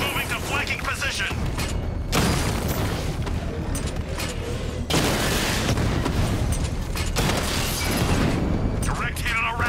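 Drone combat in the Batman Arkham Knight video game erupts in loud, repeated explosive booms and cracks over mechanical clatter, with game voices talking throughout.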